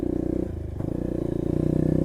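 A motorcycle crosses rough, uneven ground near the village of Novo Paraíso in the Xingu region, its engine droning steadily up close with clattering and scraping from the bumpy ride throughout.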